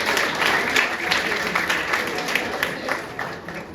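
A presentation audience claps continuously in a dense, even burst of applause that carries on for several seconds without pause.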